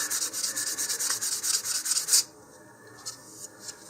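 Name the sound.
sanding putty on a model rocket nose cone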